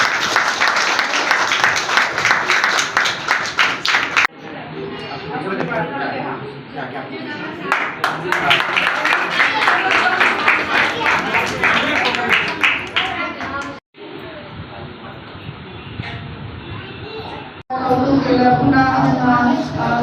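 An audience bursts into loud, sustained applause in several waves, with brief pauses between rounds and voices mixed in at times.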